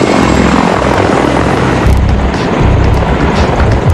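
A CH-53E heavy-lift helicopter with a giant 79-foot rotor in flight, giving a loud, steady roar of rotor and engine with a rough low-end throb that holds unbroken throughout.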